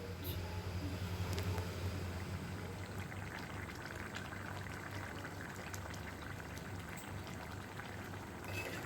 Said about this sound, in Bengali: তো দেখো ঝোল আমার ফুটে গেছে।